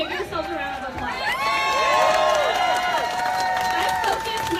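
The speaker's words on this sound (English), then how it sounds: "give yourselves a round of applause" Crowd at a revenue rally applauding and cheering, with sustained clapping under overlapping shouts and whoops that rise in the middle and stay loud to the end.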